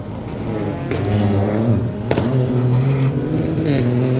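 A Peugeot 1.6-litre three-cylinder rally car on a circuit rally stage snarls loudly and close, its engine note rising and dropping through gear changes with sharp pops between shifts.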